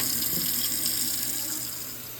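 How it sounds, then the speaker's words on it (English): A kitchen tap runs warm water into a sink. The stream is a steady, close hiss that continues unbroken and eases slightly toward the end, with no voices. "I'm going to start by filling my sink up with warm water."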